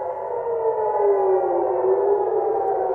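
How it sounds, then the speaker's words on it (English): A civil defense air raid siren wails over Haifa, Israel, a loud, steady tone slowly rising and falling, with no other sound over it. "the sound of sirens is now familiar over many cities in Israel"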